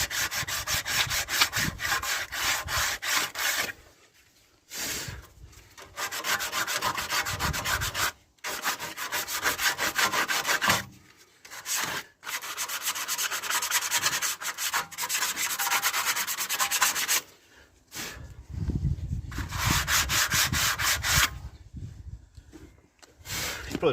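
Rover 75 brake pads being scuffed by hand on an abrasive surface, a steady gritty rubbing in long continuous strokes, close and fairly loud, broken by several short pauses.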